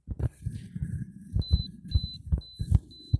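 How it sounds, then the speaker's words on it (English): A Zebco Bite Alert fishing alarm gives a few short, high electronic beeps at even intervals, mixed with close handling thumps and knocks. "Whenever you turn on the Bite Alert, it will beep that one time"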